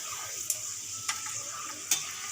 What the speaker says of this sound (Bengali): দুটো শুকনো লঙ্কা আর দিয়ে দেবো কড়ি পাতা দিয়ে একসাথে ভেজে তুলে নেব